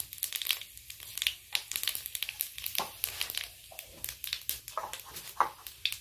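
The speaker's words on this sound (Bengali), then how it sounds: "কয়েকটা কাঁচা লঙ্কা হাতের সাহায্যে ভেঙে নিয়েছি।" Fresh green chilies snapped apart by hand, giving quiet, close, irregular crackles and crinkly tearing bursts over a faint background hum.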